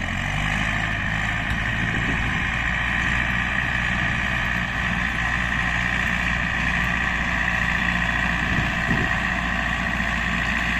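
A tractor hauling manure from a heap runs with a steady, droning engine note, close and unbroken, with a faint rumble beneath and no voices.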